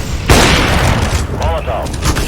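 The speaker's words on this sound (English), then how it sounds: "Throwing grenade. Incendiary out." An incendiary grenade bursts with a sudden loud broadband boom in a PUBG match, a dense crackling roar that holds at full level for about two seconds, with a voice briefly heard over it.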